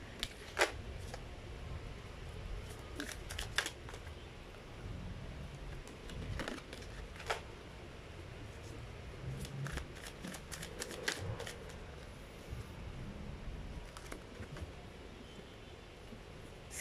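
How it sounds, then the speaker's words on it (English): Sticky tarot cards being shuffled up close, a steady papery riffling with repeated soft flicks and taps, faint and continuous. "Kind of hard to shuffle this card"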